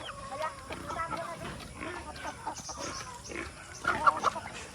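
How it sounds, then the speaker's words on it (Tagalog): Pigs and chickens eat together on a farm set among coconut trees, with grunts and clucks blending into a steady, moderately loud barnyard din and a brief sharper burst of calls near the end. "Dito kumakain yung mga baboy at babo, manok,"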